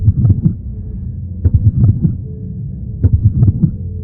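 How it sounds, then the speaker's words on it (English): Heartbeat sound effect for Scrap Baby in a Five Nights at Freddy's game: low, muffled double thumps in three clustered groups, loud and alone against a faint hum. "Scrap Baby's sound effect is a heartbeat."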